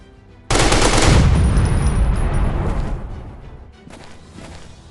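Assault rifle fire in a shooting video game: a loud, close burst of rapid automatic shots that starts suddenly, holds for about two seconds, then fades into a trailing rumble, followed by a softer second flurry.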